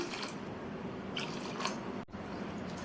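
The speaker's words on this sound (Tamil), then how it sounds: "அதே கப்லேயே 1/4 கப் அளவுக்கு தண்ணி இதில் சேர்த்துக்கலாம்." A quarter cup of water is poured onto soaked seeraga samba rice for vegetable biryani, giving quiet, brief liquid splashes and wet squishing sounds, close and faint.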